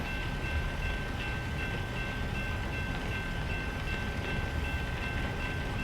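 A long freight train passes in American Truck Simulator, a dense continuous rolling rumble and clatter of wagons with a steady high tone running through it, loud and close throughout.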